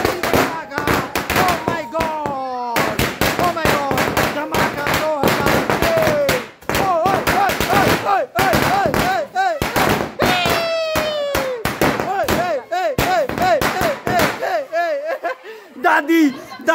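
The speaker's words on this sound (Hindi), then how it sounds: "और अब लड़ी फटने जा रही है, इस दिवाली की आखिरी लड़ी है ये 2023 की लड़ी, जिसमें कि 300 धमाके लगने जा रहे हैं।" A Diwali firecracker string of 300 bursts goes off in a long rapid crackling chain of sharp bangs, close and loud, with family members shouting and laughing over the explosions and a whistling rocket-like squeal near the end.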